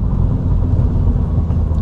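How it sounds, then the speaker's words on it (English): Mini John Cooper Works GP3 cruising in normal driving mode, a steady low engine and road drone filling the cabin, continuous and fairly loud with no voices. "So back in normal driving mode"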